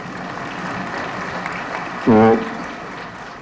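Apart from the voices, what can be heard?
loud applause in an auditorium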